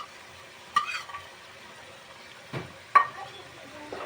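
A coriander and green chilli paste is stirred into chicken frying in a pan, giving a faint background sizzle broken by two or three sharp spatula scrapes and knocks.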